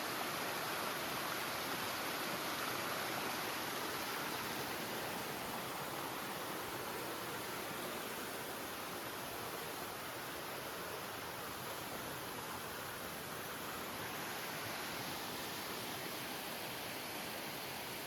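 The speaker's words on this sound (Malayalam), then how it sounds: "ഈ പാറയ്ക്ക് മുകളിലൂടെയാണ് ഈ വെള്ളം പൊക്കോണ്ടിരിക്കുന്നത്" Water rushes over layered rock at the top of Kudilu Kuzhi waterfall, a constant broadband roar that stays even and unbroken throughout, with no voices.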